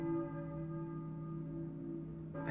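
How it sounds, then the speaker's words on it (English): A single church bell tolls in Silent Hill and its tone rings on in a long, fading hum. It is quiet and alone, and a soft knock comes at the end. "I hear a church bell"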